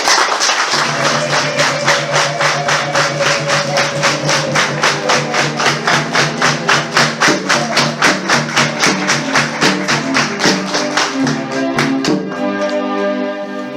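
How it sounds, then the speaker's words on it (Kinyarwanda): A church congregation applauds at the end of Mass, dense rhythmic clapping from many hands filling the room loudly and steadily for several seconds before thinning out at the close. "Ndabaha amashyi ntawe yaba ari makeya n'ukuntu mwabiteguye neza."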